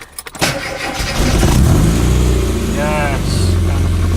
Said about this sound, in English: it's quite loud when it's cold, which is the thing I like about it, is get that lovely sort of raw sound out of the exhaust when it's cold